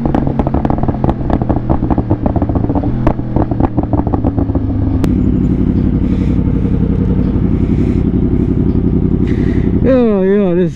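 A brand-new Kawasaki ZX10R sport bike revs hard with its exhaust valve open, firing a rapid stutter of crackling pops and bangs before settling into a steady, loud engine drone that climbs into a rising rev at the end.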